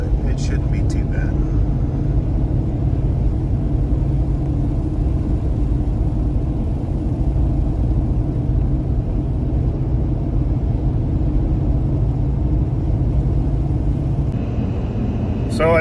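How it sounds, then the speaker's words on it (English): A car engine and tyre rumble on the road drone low and steady throughout a long highway drive, with the hum holding level and a voice talking over it in places. "I'm back on the road now"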